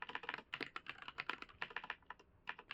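Typing on a computer keyboard, a rapid run of close, crisp key clicks in uneven bursts with short pauses between, fairly quiet and without talk.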